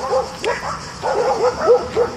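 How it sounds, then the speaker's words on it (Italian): Several dogs bark angrily in quick repeated bursts, close and loud, with a faint voice in the background. "Qui abbiamo dei cani incazzati."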